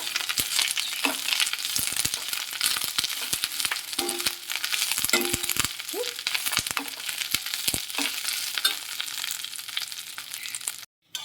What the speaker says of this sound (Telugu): మనం ఇలా ఫ్రై చేసేటప్పుడు చిటపటం అనే సౌండ్ కూడా